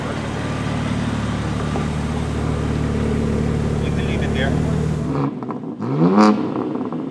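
A 2022 BMW G80 M3 exhaust rumbles steadily for about five seconds, then cuts off, and a person speaks close by.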